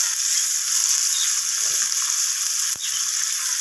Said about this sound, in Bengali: তো এরপর ওই একই তেলের মধ্যে আমি কেটে রাখা পেঁয়াজগুলোকে দিয়ে দিলাম।